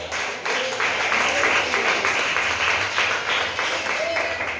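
A church congregation claps in a dense, sustained burst of applause with a few voices mixed in, filling the space for several seconds.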